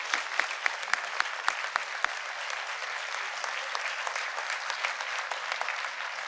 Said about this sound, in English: Ladies and gentlemen, let's give them a round of applause.